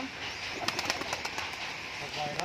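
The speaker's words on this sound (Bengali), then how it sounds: "ফুলশিরার একটা ছেলে পায়রা নর পায়রা আছে" A male Giribaz pigeon with a full-feathered head coos and flutters near a home loft, soft repeated calls and wing flaps sitting under background noise and occasional talk.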